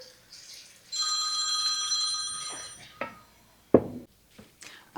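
A telephone bell rings in a kitchen where country fried steak gravy is being made, a steady ringing tone lasting about two seconds, followed by a few sharp knocks and clatters.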